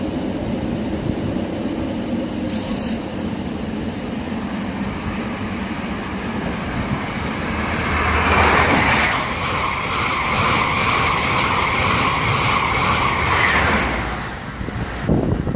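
A Class 90 electric locomotive tries to pull away from a station on the East Coast Main Line, its rising electrical whine and hum building steadily over distant rumble with tonal bands from the middle onward, then fading near the end.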